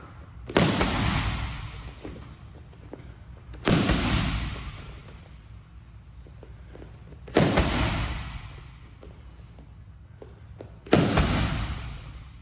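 Stick strikes and kicks landing on a heavy bag during training, four loud, heavy thuds spaced a few seconds apart, each with a brief ringing decay and quiet pauses between.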